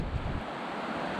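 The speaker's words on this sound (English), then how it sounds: "How cool is this? Lovely river." A river flows beside Hadrian's Wall Way on a walk in September, heard as a steady, close wash of rushing water with a gusty, wind-buffeted rumble over it and no talking.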